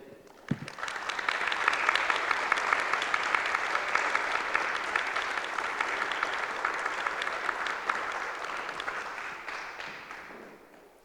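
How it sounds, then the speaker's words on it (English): A crowd at a community healthcare gathering in Windsor gives a long, sustained ovation. Dense clapping swells quickly and holds steady for about ten seconds before tapering off. "just that round of applause shows how much you are valued"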